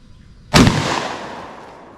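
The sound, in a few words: home defense shotgun fired at the range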